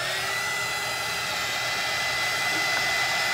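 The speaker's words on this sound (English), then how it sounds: "I'm gonna hit that with a blow dryer for 5 seconds." A blow dryer runs steadily and loudly the whole time, drying resin on a stenciled glass pumpkin, a constant close airy roar with no talk.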